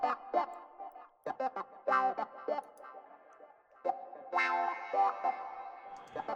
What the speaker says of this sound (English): But then this is some reverb, a plate reverb, right plugged right into it.